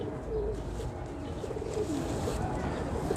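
A male Kasuri pigeon coos in soft, repeated low throaty phrases, close by, over faint outdoor background noise.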